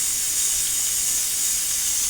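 A pressure cooker cooking rice, releasing a steady, loud, close hiss of steam that runs unbroken throughout, with no voices.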